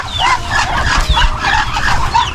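Backyard chickens nearby cluck and chatter continuously in soft, overlapping calls, with faint low rustling underneath.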